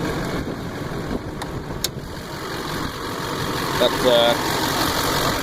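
A 2004.5 GMC LLY Duramax diesel pickup with a 5-inch exhaust pipe, resonator delete and LBZ mouthpiece idles with a steady, close, low rumble, while a voice talks briefly over it.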